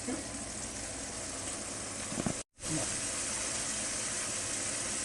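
Mushrooms and vegetables sauté in a pan for vegan fried rice, a steady broad sizzle and hiss running throughout, briefly cut off by a sudden silent gap before resuming at the same level.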